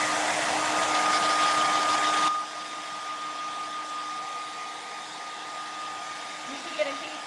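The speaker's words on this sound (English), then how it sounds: "Hair dryer's coming back on." A hair dryer runs loud and close to dry a surface before sanding, with a steady, airy roar that drops to a lower setting partway through and keeps blowing with a small clunk near the end.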